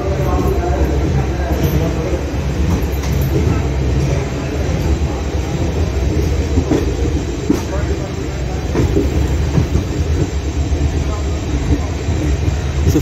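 The Koyna Express rolls along the rails near Satara, heard from on board as a loud, steady rumble with rhythmic clicks of wheels over rail joints, and voices talk faintly beneath it.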